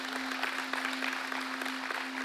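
A church congregation applauds, a steady, fairly quiet spread of clapping with a constant low electrical hum running underneath.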